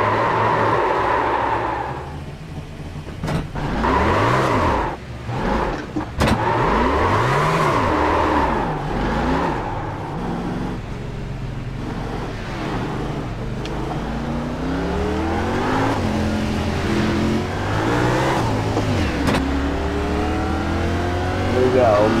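A race car in the iRacing video game at Daytona revs and accelerates, its engine pitch sweeping up and down through repeated gear changes, loud and continuous, with someone talking over it.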